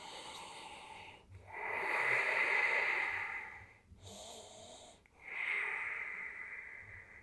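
Slow, audible breathing during a yoga stretch: long breathy inhales and exhales close to the mic, two main breath cycles separated by short pauses.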